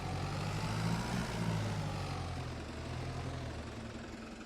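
A vehicle engine idles in the video game Farming Simulator 22, a steady low rumble with a broad noisy hum that holds constant throughout at close range, with no talk over it.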